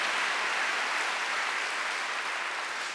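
Church congregation clapping during a Sunday worship service, a steady dense wash of applause that holds evenly for a few seconds and stops abruptly.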